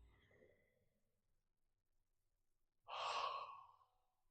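A single deep, loud exhale with a soft breathy sigh quality, taken during a guided meditation, rising abruptly after a faint earlier breath and a quiet pause, then trailing off.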